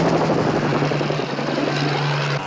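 Helicopter flying overhead in a TV action-series chase scene, a steady loud rotor and engine roar with a sustained low hum throughout, no voices.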